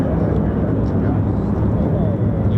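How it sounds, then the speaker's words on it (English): F-15E Strike Eagle fighter jets fly near RAF Lakenheath with a loud, continuous roar. The dense low rumble fills the whole moment without a break. "Who we got now? F-15E Strike Eagles."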